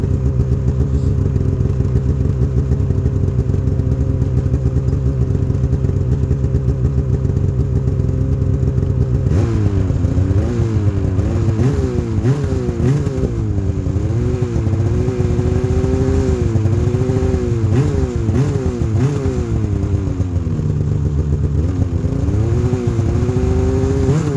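Polaris snowmobile with a Boost engine and RPM chambered muffler exhaust, recorded half a meter away at a 45-degree angle: a loud, steady idle drone that breaks into repeated revving swells and dips, running alone without talk.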